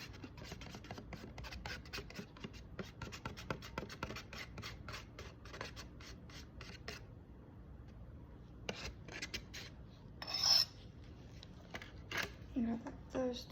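Spatula scraping and mixing powder into a base cream in a container, soft repeated rubbing and scratching strokes in quick bursts, faint and close, with a few sharper scrapes toward the end.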